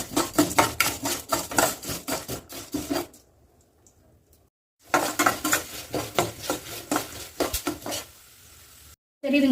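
Capsicum chutney ingredients with three kinds of lentils simmer slowly in a pan on low heat, with scraping and clinking of a spoon against the cookware in repeated bursts, a quiet pause in the middle.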